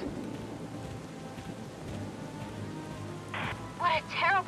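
Steady rain with a low thunder rumble in the game Valkyria Chronicles 4, soft and continuous, while people talk over the storm near the end.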